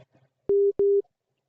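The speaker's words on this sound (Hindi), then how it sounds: "थोड़ा फोन आ गया तो डिस्टर्ब हो गया।" Two loud, steady electronic phone tones, each about a quarter second long with a short gap between them, cut into an otherwise quiet recording after a few faint sounds.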